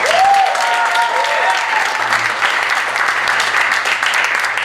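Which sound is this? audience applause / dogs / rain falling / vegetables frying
audience applause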